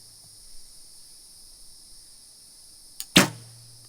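An arrow is released from a bow after a near-silent hold, with a faint steady hiss underneath, then a brief click and a sharp, loud snap of the string with a short ringing tail.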